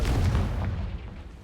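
A Confringo fire spell bursting in Hogwarts Legacy, a deep, rumbling boom that starts loud and fades away over about a second and a half, with no talk over it.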